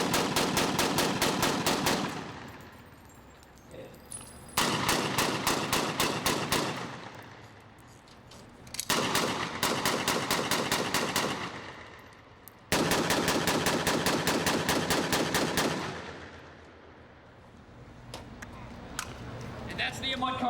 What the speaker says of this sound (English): The M1 carbine, like the M1 Garand, is a semi-automatic weapon